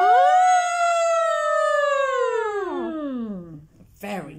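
A voice imitates an elephant's trumpet in a jungle song, one loud, long, wavering call that slides downward and fades, followed by a short vocal burst.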